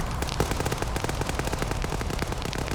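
Rapid automatic gunfire in a military video game, dense and continuous bursts of shots rattling throughout at close range, loud and unbroken with no talk over it.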